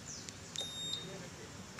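A Honda All New Vario 125/150 scooter's remote alarm gives a few short, high-pitched electronic beeps, faint and spaced apart, over a quiet background.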